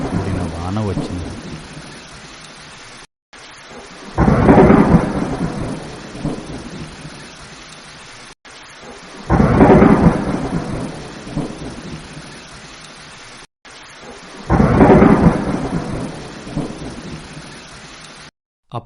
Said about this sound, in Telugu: ఆడవి మధ్యన భయకరమైన వర్షం, ఉరుములు, మెరుపులతో కూడిన వాన వచ్చింది.